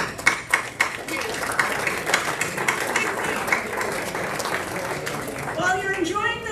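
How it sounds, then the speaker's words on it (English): A Rochester Rotary Club meeting audience claps for its outgoing president, Peter Glennon, with scattered, fairly quiet clapping mixed with people talking and chatter throughout, and some louder voices near the end. "Let's give a big round of applause for President Peter."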